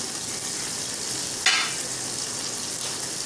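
Mutton liver fries in a pan with a steady sizzle, then a sharp, brief hiss flares up as green chillies are added, settling back to the constant frying sound.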